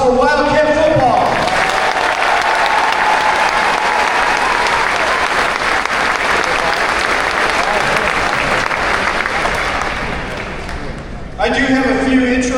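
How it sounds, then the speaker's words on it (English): A packed crowd applauds Wildcat football at a school fall meet-the-teams night, a loud, dense, sustained wash of clapping that tapers off briefly before a voice comes back in. "How about a big round of applause for Wildcat football?"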